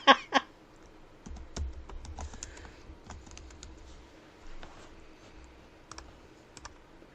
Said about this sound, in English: She's typing up a storm.